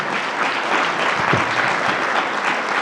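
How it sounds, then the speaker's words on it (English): Round of applause from an audience for a university chancellor at an investment announcement, dense and even clapping filling the room at a steady level, with no voices heard. "Let's give a round of applause to our Chancellor, John King."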